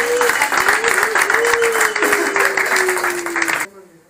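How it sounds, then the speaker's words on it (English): Audience applause for a stage act at a headline comedy or variety show, a dense burst of clapping lasting about three and a half seconds, loud and close, with a sustained voice tone running under it before it cuts off sharply. "a nice round of applause"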